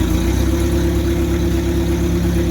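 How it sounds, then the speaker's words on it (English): A 1950s army lorry engine idles close by with its exhaust pipe detached, giving a steady, noisy, low ticking rumble with no talking. "Now the exhaust pipe's not attached at the moment, so hence it's quite noisy, but beautiful little tick over there."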